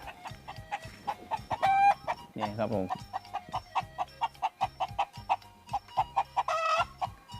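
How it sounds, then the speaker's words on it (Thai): Chickens on a mixed farm cluck steadily and rhythmically nearby, with a brief crow among them, while someone speaks briefly over the birds. "นี่ไก่ครับเลี้ยงไก่ไว้"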